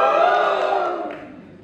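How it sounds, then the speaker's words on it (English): Alumni audience at an IIM Kozhikode talent show cheering on cue, a dense sustained roar of many voices that swells loudly and then tapers off toward the end. "Alums, give me a cheer one more time."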